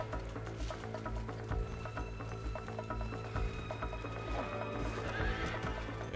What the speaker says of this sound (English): Right, where's this stupid horse?